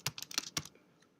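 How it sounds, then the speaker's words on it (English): Quick, light keystrokes on a computer keyboard, about half a second of close clicking taps followed by a faint stray click, quiet and alone with no speech. "So we'll say Jacqueline Orlov, if I can type correctly,"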